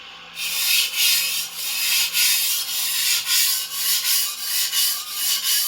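An antique Dufresne and Co. chef knife, burr already raised, is drawn across a whetstone along its center section in steady rhythmic rasping strokes, about a dozen close and even in loudness, with no talking.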